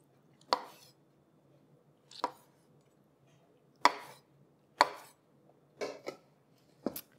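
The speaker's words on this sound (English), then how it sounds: "I'm just gonna slice those in half as well." Kalamata olives sliced in half with a knife on a board, six sharp separate chops at uneven intervals, close and clear against a quiet background, no talking.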